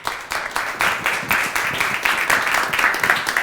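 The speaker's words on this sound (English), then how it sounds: "So please give a big round of applause for our trainer mentor" An audience at a body language show applauds, a sustained burst of clapping from a room full of people that swells and continues throughout.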